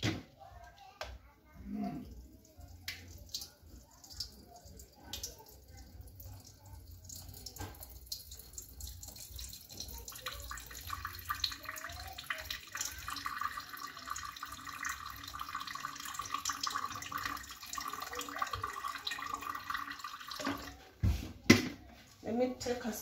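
Watermelon juice with ginger and lemon being poured and pushed through a sieve, a soft continuous liquid trickle and splashing with faint clinks, under a person talking nearby.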